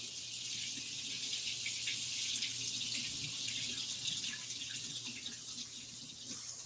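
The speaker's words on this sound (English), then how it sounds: "I got to put it under the hot water." Hot tap water running over a glass jar in a kitchen sink, a continuous loud rushing hiss with no pauses and no talking.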